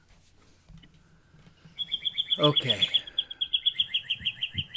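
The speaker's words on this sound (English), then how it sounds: "we can hear the birds chirping along beautifully" Birds chirping outdoors, a clear repeated tweet in a quick regular series starting partway through, fairly close, with a brief spoken word and faint background noise.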